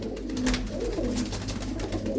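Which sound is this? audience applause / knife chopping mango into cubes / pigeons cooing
pigeons cooing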